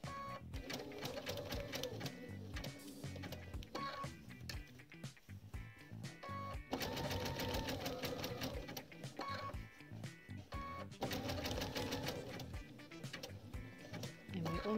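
A sewing machine zigzag stitches an appliqué curve in rapid, rhythmic bursts of mechanical clatter, close and loud, pausing briefly between runs as the fabric is turned.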